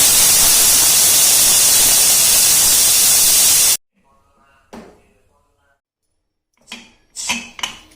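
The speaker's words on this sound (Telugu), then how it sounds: "5 విజిల్స్ పైనే వచ్చాయండి. ఇంకొంచెం ఆవిరి ఉంది." A pressure cooker holding country chicken lets off a loud, steady hiss of steam for about four seconds, then cuts off abruptly, leaving near-silence broken by a few faint bumps and brief voices.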